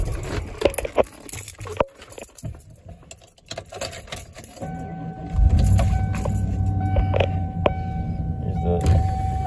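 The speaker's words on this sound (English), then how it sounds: "Here's those windows working." Electric power windows on a 1997 Ford F-250 Regular Cab 4x4 truck run with a steady whirring motor hum in the second half, after quieter clicks and rustling in the cabin.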